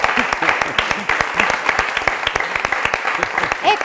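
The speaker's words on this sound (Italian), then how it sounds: "fatevi un applauso che siete stati bravi" Quiz-show audience claps for contestants at a village team game in Friuli, a brisk burst of dense, fairly loud applause with some individual sharp claps and light crowd murmur underneath.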